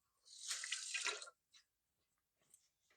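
Tap water running briefly over hands at a sink, a soft splashing burst of about a second followed by a few faint drips and small splashes in a quiet room.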